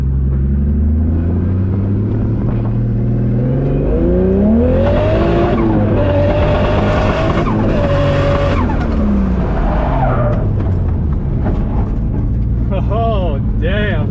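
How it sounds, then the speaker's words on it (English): A 1989 Nissan S13 coupe drift car spinning its tires up through third gear, engine climbing in pitch with each gear change, tires squealing loudly nearby, with voices over it. "Spinning them all the way through third."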